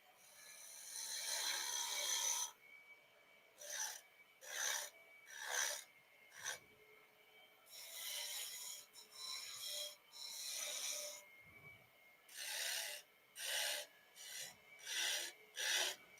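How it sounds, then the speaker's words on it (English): A small spindle gouge cuts a shallow dovetail tenon into a maple box blank on a woodturning lathe, producing repeated hissing, rasping cuts in short bursts separated by brief quiet gaps, close and clear without speech. "get my little spindle gouge out and dovetail this over a little bit"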